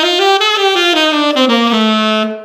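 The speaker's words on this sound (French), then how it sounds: "je vais jouer ici Si locrien" A melodic instrument plays the B Locrian mode as a jazz practice example, a clear descending run of sustained tonal notes that fades out at the end, with no talking.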